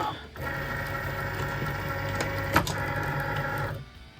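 A Cricut cutting machine slices a greeting card, a steady mechanical whir with a tonal motor hum that runs for about three and a half seconds, then stops.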